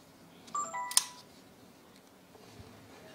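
A Panasonic HC V180 Full HD camcorder powering on gives a few short electronic beeps and a brief mechanical click close to the microphone, followed by quiet room hiss.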